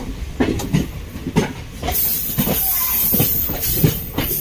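An electric passenger train runs on rails on the route toward Bengaluru, giving a steady rolling rumble with rhythmic wheel clicks over rail joints and a faint hiss, close and continuous throughout.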